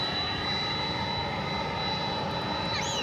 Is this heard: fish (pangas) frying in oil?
no